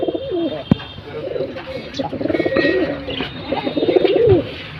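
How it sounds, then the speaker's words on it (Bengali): Fancy pigeons coo repeatedly in soft, rounded calls, several birds overlapping nearby in a pet bird market, with a sharp knock and faint voices in the background. "দেখুন কী ডাকাডাকি করতেছে এগুলো প্রচুর ডাকাডাকি করতেছে"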